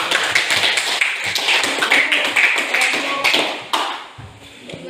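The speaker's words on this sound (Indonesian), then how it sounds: "sekali lagi kita kasih aplaus" Classroom applause from a group of students, a dense stretch of overlapping claps and taps at moderate loudness that fades toward the end.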